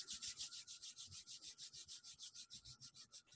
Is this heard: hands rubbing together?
yes